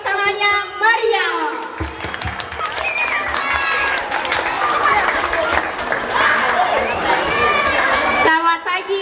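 An audience at a daytime talk show applauds and cheers to welcome a guest, the founder of Wadon Group, with loud sustained clapping and crowd chatter filling most of the stretch after a brief spoken introduction.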